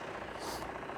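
A 2005 Kia Grand Carnival with a 2900cc CRDi diesel idling, heard from outside the van: a smooth, steady low hum held evenly, fairly faint, with no talk over it.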